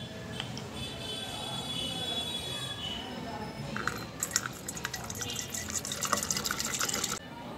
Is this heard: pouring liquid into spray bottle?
yes